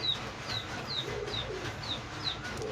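Pigeons coo repeatedly at close range, in a soft, regular rhythm of about two calls per second, over faint background noise.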